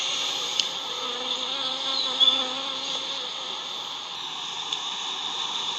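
A honey bee swarm newly settled into a hive hums around the frames, a dense, steady, close buzzing that stays even throughout without any voices.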